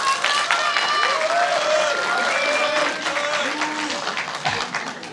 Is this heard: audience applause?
yes